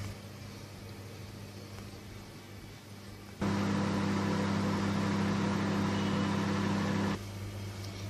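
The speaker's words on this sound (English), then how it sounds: "Now I'm going to microwave this for 2 minutes at high temperature" A microwave oven runs on high, cooking an eggless chocolate brownie in a mug, giving a steady low hum and whir that grows louder for a few seconds mid-run and then drops back.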